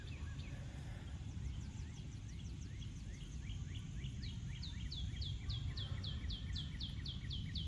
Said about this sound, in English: You'll hear the sounds of the birds chirping.